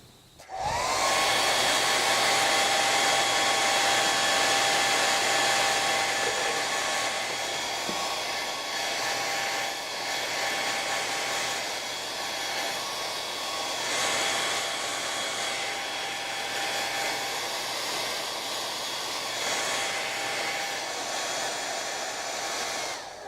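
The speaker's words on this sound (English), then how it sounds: "Dry it a little bit with the hair dryer." A hair dryer blows steadily for over twenty seconds to dry paint on an art piece, a loud, constant whooshing whir with a faint tonal hum, starting abruptly and running alone without talk.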